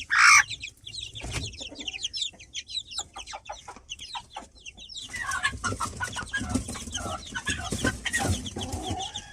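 An irritable black hen clucks in short, irregular bursts close by in a chicken coop, with a sharp squawk at the start and farmyard bustle throughout.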